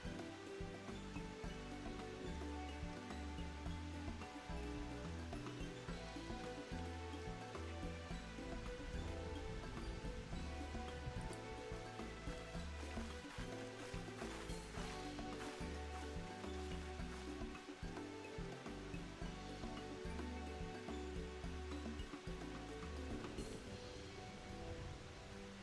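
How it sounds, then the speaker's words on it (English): Steady rain ambience from the video game Final Fantasy XIV hisses continuously at low volume, with a faint tonal layer beneath it and no voices. "The rain sound stopped?"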